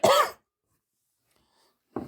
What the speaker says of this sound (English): Because I said I was sick and then I coughed.